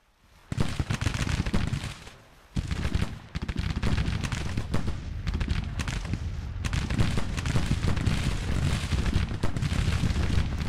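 Cannon blasts and rolling musket fire from the Civil War strategy game Grand Tactician, loud and sustained after a brief quiet start, a dense continuous battle din with repeated heavy booms.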